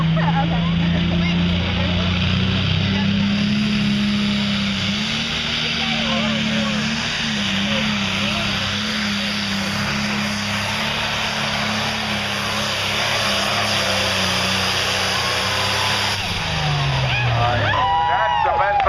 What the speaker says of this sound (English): That's the best I've seen that tractor run in.